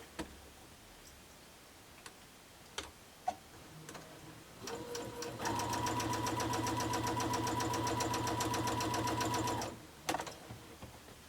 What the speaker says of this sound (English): So just right sides together, 1/4 inch seam allowance, stitching right down.